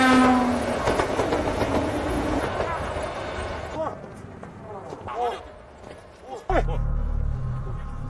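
A train rumbles past loudly on a railway with rattling, clattering wheels, then fades. A voice narrates over it and a brief squealing tone cuts through near the end.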